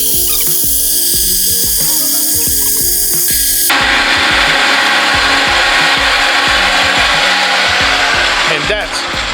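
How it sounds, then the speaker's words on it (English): A Ridgid pipe cutter with a worn wheel cuts through metal pipe, giving a loud, continuous ratcheting and grinding rasp with repeated clicks that turns harsher and brighter partway through. "Now this is a pipe cutter, also a Rigid pipe cutter, and when I usually cut the pipe."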